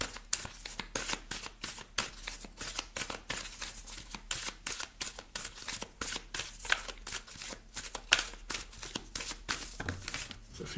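A deck of goddesses, gods and guardians oracle cards shuffled by hand, giving rapid, crisp riffling bursts that repeat steadily and close up with no talk.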